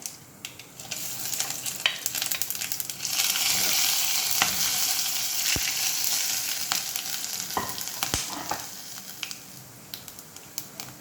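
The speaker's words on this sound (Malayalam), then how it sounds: "എണ്ണയിലേക്ക് തന്നെ കടുക് ഇട്ട് കൊടുക്കാം ഇനി മുഴുവനും നമ്മൾ എടുത്ത് വെച്ചിരിക്കുന്ന പെരുംജീരകം ഗ്രാമ്പു ഇതെല്ലാം കൂടെ ചേർത്ത് കൊടുക്കാം" Mustard seeds, fennel seeds and cloves sizzle and crackle steadily in hot oil, with sharp pops and spits over a continuous close hiss and no talking.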